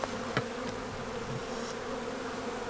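A newly installed package of honey bees buzzes in a steady, continuous drone, with a few brief louder individual passes close by and no talking.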